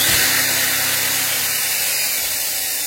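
An electric drill runs with no load on a 1000 W pure sine wave power station with a LiFePO4 100Ah battery, giving a loud, steady high whine that holds constant for the whole few seconds.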